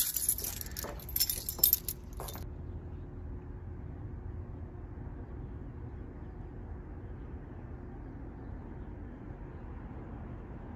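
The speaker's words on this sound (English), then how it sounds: "taking my keys out of my pocket." Keys taken out of a pocket give a bright, brief metallic jangle over the first two seconds. A quiet low room hum continues afterward.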